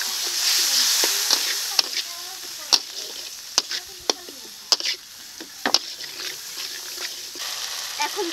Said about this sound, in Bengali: এখন অল্প করে জল দিয়ে দিচ্ছি।